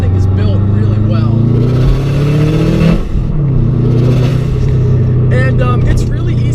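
Modified 2007 Subaru WRX engine droning steadily with road noise while driving, a loud continuous low rumble with brief shifts in pitch and a short dip midway, with faint background talk.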